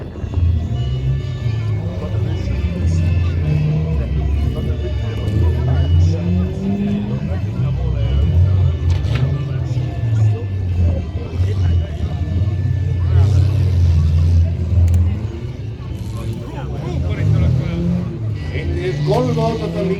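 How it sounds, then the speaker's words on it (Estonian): Several cars in a demolition derby, engines droning and revving at a distance amid crowd noise and announcer talk, with occasional thuds and scrapes over a continuous low rumble. "Liikvel on veel 3 autot."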